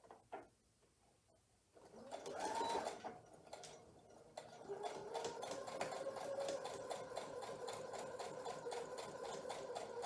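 A sewing machine stitches across the corner of a herringbone quilt block, starting after a brief spin-up and running steadily and close for several seconds with a rapid, even needle rhythm.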